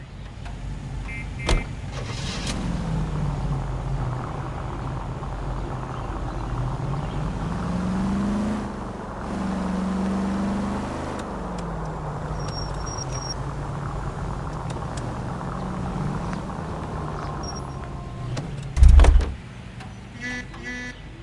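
A car driven through the streets in the L.A. Noire video game, its engine a steady low hum with a brief rise in pitch around the middle, broken by a sharp loud thump near the end.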